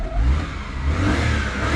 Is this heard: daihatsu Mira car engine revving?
yes